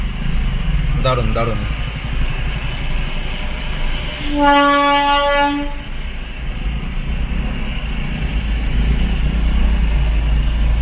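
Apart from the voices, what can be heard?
Darjeeling heritage toy train engine arriving near Ghum station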